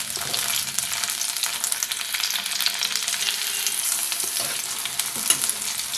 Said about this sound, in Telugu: పచ్చిమిర్చిని ఫ్రై చేసుకోవాలి